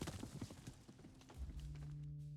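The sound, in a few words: horse hooves clip-clopping while riding in Above Snakes video game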